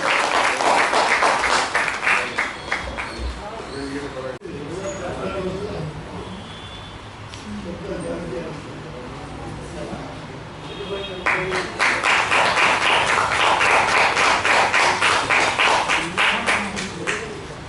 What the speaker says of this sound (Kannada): ಪ್ರೀತಿಯ ಚಪ್ಪಾಳೆಗಳಿಂದ ಅಭಿನಂದಿಸ್ತಾರೆ.